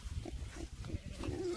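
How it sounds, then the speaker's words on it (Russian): Pigs grunting and snorting at close range as they are let out of an electric-fence pen on a farm, low rough grunts repeating throughout with a brief higher squeal near the end. "Ну, чё, уже голодные свинки наши."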